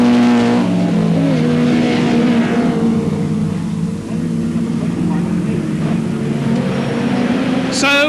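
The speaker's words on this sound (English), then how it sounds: "And into the pits comes last year's Silverstone winner Jerry Marnie from 10th position." A 1989 BTCC touring race car crawls slowly into the pit lane with its ignition system failing, engine droning and revving in a steady, fairly close rumble beneath a commentator's voice throughout.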